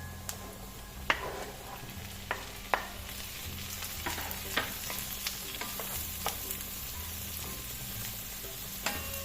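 Mushrooms, 200 grams, sautéing in a pan with onions that are already browned, a steady broad sizzle with scattered sharp clicks and taps of a utensil against the pan, no voices.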